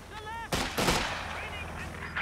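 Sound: fragmentation bombing explosions in the video game Company of Heroes 2

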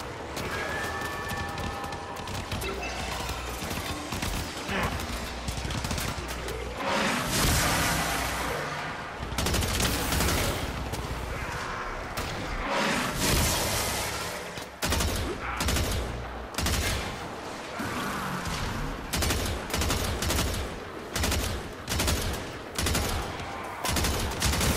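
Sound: gunfire in the video game Warframe

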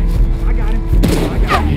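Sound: gunshots in the video game Red Dead Redemption 2

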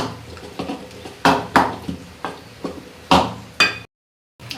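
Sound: mashing cooked spinach in pot

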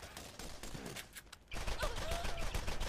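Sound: gunfire in the video game Borderlands

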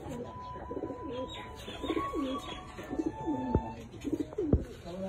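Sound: pigeons cooing

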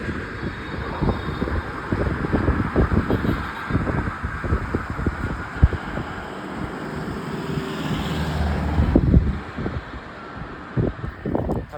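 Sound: road traffic with passing cars

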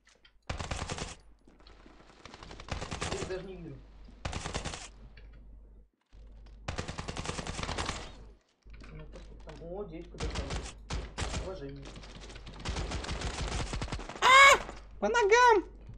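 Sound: gunfire in the video game Standoff 2

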